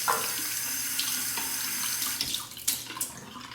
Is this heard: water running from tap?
yes